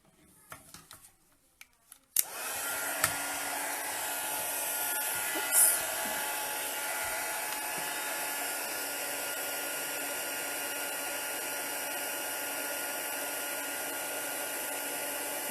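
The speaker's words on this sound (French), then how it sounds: "je vais repartir avec mon pistolet chauffant" A heat gun switches on after a few faint clicks and blows steadily with a loud, broadband hiss and whir that continues unbroken to the end.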